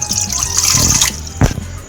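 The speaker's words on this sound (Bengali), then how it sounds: "জল দিয়ে দিয়েছি" Water poured into a kadai set up for boiling washed masoor lentils: a steady splashing stream that stops abruptly, followed by a single clunk and a few faint drips.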